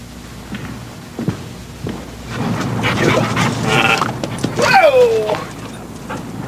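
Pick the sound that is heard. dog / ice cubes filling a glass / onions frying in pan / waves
dog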